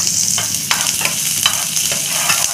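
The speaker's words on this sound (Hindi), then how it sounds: "अब इसमें डाल देंगे ब्लैक वाला सरसों। सरसों भी थोड़ा सा चटकार आ रहा है उसमें, और हम ये इसमें डाल दिए प्याज हरी मिर्च साथ में" Onion and green chilli fry with black mustard seeds in hot oil, producing a loud, close sizzle with light crackles and a few stirring scrapes.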